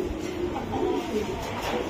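An imported inbred racing pigeon in a loft gives a soft, low, throaty coo at close range over faint background noise.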